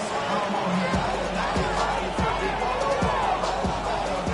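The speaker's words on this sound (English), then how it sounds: "This crowd into it now as we get to third down." Steady crowd roar fills a Madden 26 football game stadium on a late third down, a dense unbroken wash of noise with a few sharp thuds rising out of it.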